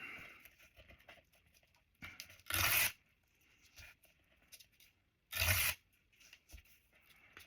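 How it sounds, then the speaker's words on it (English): Paper torn into strips for Christmas craft tags, two short, crisp rips a few seconds apart with soft rustling and handling in between. "I'm going to rip some strips here"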